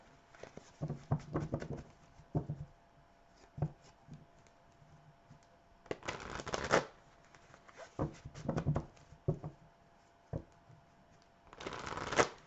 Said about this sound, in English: So I'll pull 3 cards here on advice.